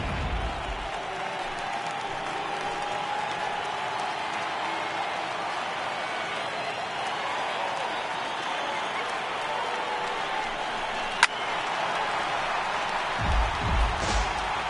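A steady, dense roar from a baseball stadium crowd of over 39,000 on its feet at a Diamondbacks–Giants game, constant and far-spread, with one sharp knock near the end.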